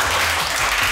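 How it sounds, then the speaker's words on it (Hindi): A short, dense burst of loud clapping from an audience, filling the whole moment with no voice on top. "जोरदार ताली"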